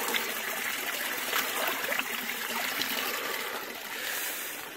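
Cold mountain stream water in the Himachal jungle flows steadily with a constant broadband rush and trickle, close and fairly loud, without pause.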